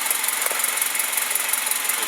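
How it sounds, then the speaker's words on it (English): A car engine runs loud and steady close by, with a fast rhythmic pulsing and a high whine, holding at one pitch rather than climbing. "I'll rev up the engine a little bit"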